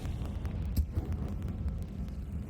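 A Confringo blasting spell explodes in Hogwarts Legacy, one sharp burst over a steady low rumble of game ambience, with no talk during it.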